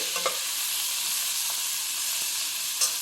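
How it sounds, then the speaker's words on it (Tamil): Finely chopped tomatoes sauté and soften in a pan, giving a steady close sizzle with a few faint spoon taps, no voices. "தக்காளி அழகாக வதங்கியிருக்கு பாருங்கள்."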